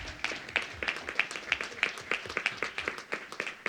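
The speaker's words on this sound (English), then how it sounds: "I can have a round of applause for you." A small audience at a board of education public comment meeting gives a short round of applause, a steady run of distinct close hand claps throughout.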